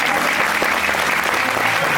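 A church congregation claps loudly and steadily for two seconds in dense, continuous applause, with voices mixed in.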